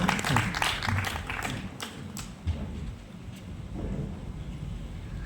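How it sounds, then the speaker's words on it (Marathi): An audience at a third-anniversary event claps for a child poet, a dense burst of applause at the start that thins into scattered claps and fades toward the end. "एकदा जोरदार टाळ्या होऊन जाऊ द्यात परिसासाठी."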